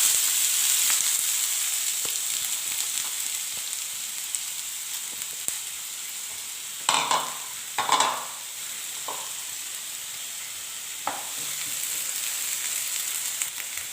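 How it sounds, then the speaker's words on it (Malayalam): Chopped onions fry in hot coconut oil with a steady bright hiss, broken by a few clanks of a spoon against the pan, no speech. "എണ്ണ നന്നായിട്ട് ചൂടായി വരുമ്പോൾ അതിലേക്ക് അരിഞ്ഞു വച്ചിരിക്കുന്ന സവോള ചേർത്ത് കൊടുക്കാം."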